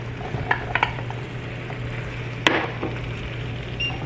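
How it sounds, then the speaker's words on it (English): A spoon scrapes and stirs fried eggs and fried potatoes through a sizzling tomato masala in a pan, with a few sharp knocks against the metal over a steady low frying hiss. "we will mix the eggs and the potatoes well with the masala and cook this for another 1 to 2 minutes"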